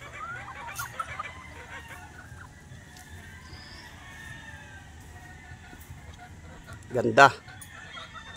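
Pure white Kelso gamefowl on a farm give a short burst of clucking near the end, close and fairly loud, over steady outdoor background noise with a voice talking earlier.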